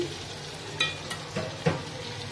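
Whole spices dropped into hot oil over ginger, garlic and cumin for frying potatoes: a soft background sizzle punctuated by a few sharp clinks and crackles, with no talking.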